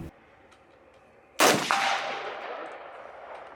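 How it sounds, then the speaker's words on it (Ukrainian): A single loud gunshot cracks at a firearms training range and echoes, its sharp report decaying slowly over the quiet background before another shot begins right at the end. "поки навколо відлунюють постріли"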